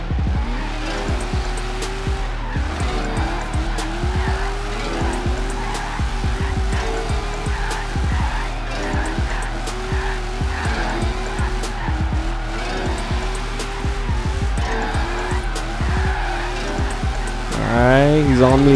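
A car drifting in the racing video game Forza Horizon 3, with the engine revving and dropping in repeated cycles and tires squealing through long slides; a person talks over it.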